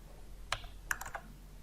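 A few separate keystrokes on a computer keyboard while entering a search value in a database program, clicking fairly close and clear over quiet room noise, with no talking.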